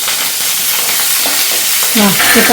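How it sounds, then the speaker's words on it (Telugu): Asafoetida-laced tempering and curry leaves fry in hot oil for a cucumber-coconut chutney, giving a loud, steady sizzle with stirring that swells near the end, with no talking. "పోపు చక్కగా వేగుతుంది"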